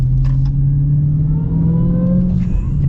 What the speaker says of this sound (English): Just listen to that supercharger.